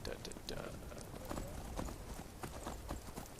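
A horse being ridden in the video game Skyrim gives a brisk, continuous clip-clop of hooves at a steady walking rhythm, moderately close, while a person talks over it.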